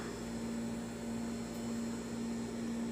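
A Harvest Right freeze dryer with a Premier oil vacuum pump runs as a steady, close mechanical hum with a constant low drone and airy broadband hiss, unchanging throughout with no voices.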